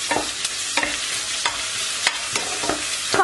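Onion and garlic fry in lightly browned butter, a close steady sizzle punctuated by regular scraping stirs about every half second, with no talk.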